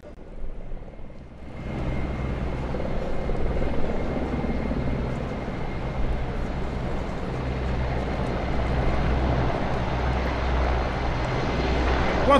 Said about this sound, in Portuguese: Quatro helicópteros do tipo Mi-171 da Força Aérea Nacional.